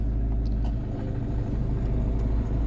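The 1.6 turbodiesel engine of a 2008 Volvo C30 idles close by with a heavy, even low rumble that holds steady throughout, no voices heard.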